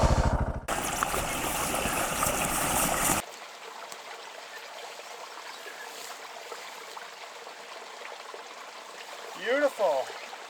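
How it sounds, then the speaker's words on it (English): A small mountain stream flows with a steady trickling rush after a louder opening burst of noise, close and continuous, and a brief voice-like sound rises near the end. "That little stream in there that's not even, oh, it is flowing right now."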